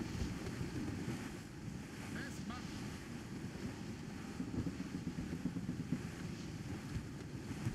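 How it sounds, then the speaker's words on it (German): Wind rising at sea aboard a sailing ship in Assassin's Creed Rogue, a steady rushing gust with waves washing against the hull, a low continuous roar and faint creaks over the whole stretch. "Der Wind frischt auf."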